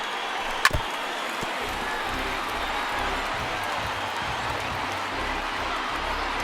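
A baseball stadium crowd of about 35,000 on its feet, a broad sustained roar of cheering with one sharp knock near the start.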